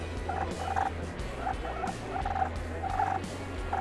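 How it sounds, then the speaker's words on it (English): A turkey gobbles in several quick rattling bursts, repeated about four times at moderate loudness over a low, steady background rumble. "And this is a turkey right here."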